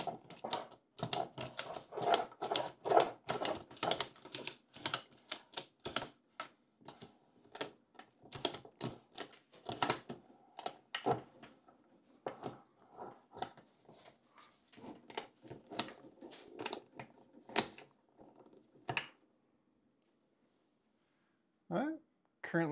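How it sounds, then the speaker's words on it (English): A ratchet strap is cranked tight to load a 3D truss on a table. Fast clicking bursts come in clusters, thin out over time and stop, leaving a silent gap before a few last clicks. "we will go ahead and tighten up the ratchet strap"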